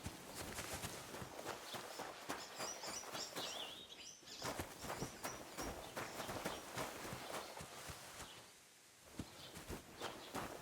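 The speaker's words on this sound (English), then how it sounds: "See that horse, son?" Horse hooves clip-clop at a walking pace in the medieval video game Knight Hood, a steady run of hoofbeats over busy ambient game sound with faint birdsong, mid-distance and continuous.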